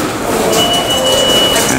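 A New York subway train rumbles loudly through the 14th Street–Union Square station, a dense, steady roar with thin, high squealing tones from the wheels.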